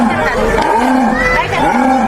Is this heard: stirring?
no